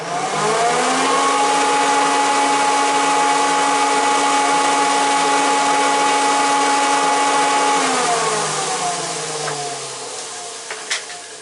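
An old Scheppach DC500 550 W workshop vacuum cleaner, plugged straight into the wall socket, runs with a loud, steady motor drone and whine, then winds down and fades near the end.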